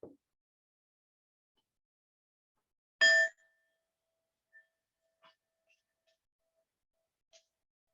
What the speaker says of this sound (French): je vais sonner une petite cloche pour annoncer le début de la méditation